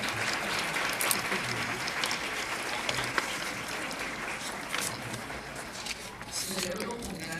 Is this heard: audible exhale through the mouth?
no